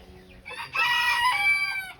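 An ispenç rooster crows once, loud and close, its call rising and holding before trailing off.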